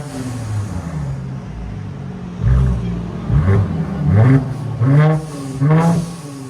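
Mercedes E 400 with a 3.0-liter twin-turbo V6 revving through an aftermarket exhaust, giving a low, loud rumble at idle and then several rising throttle blips spaced about a second apart, recorded close up.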